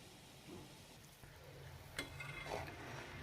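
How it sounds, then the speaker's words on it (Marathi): Balushahi frying in oil over a very low gas flame, a faint steady sizzle with a couple of soft clicks and bubbles, quiet and continuous. "बालुशाही तळत असताना गॅस अगदी कमी ठेवायचा आहे।"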